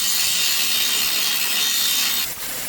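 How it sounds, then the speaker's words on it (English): Angle grinder grinding down a weld on a BMW G31, a steady, loud, harsh abrasive hiss that runs continuously and drops off slightly near the end. "So now I'll grind the weld and we'll inspect for holes inside the weld."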